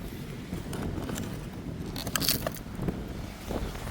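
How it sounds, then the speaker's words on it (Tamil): Strong wind blowing at a beach in Nagercoil, heard as a steady, rough roar with gusts that buff and rumble against the microphone, loud and constant, with no voices. "பயங்கரமாக காற்று அடிக்குது பார்த்தீங்களா"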